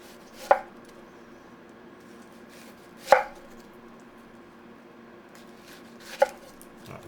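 A knife cuts an onion into thick half-inch rings on a board, making three separate sharp chops spaced a few seconds apart in an otherwise quiet kitchen.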